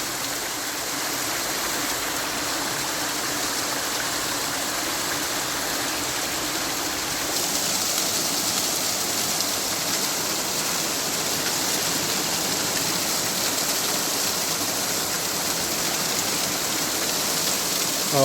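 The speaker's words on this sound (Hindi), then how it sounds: "पानी का बहाव तेज़ है काफ़ी यहाँ पर" A fast mountain spring stream near Dassu, Kohistan, on the Karakoram Highway rushes steadily and loudly, its dense splashing hiss unbroken throughout, with no voices.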